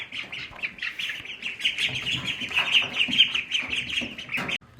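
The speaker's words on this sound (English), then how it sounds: "That is a proper chicken." A pet chicken clucks and chatters close by in a continuous run of rapid, raspy calls with brief squawky peaks, ending abruptly.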